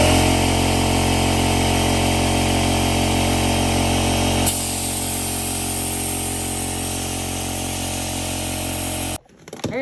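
An air compressor or pump inflates a KTM 125 dirt bike tire, giving a loud, steady mechanical drone with a slight drop in tone midway before it cuts off abruptly near the end.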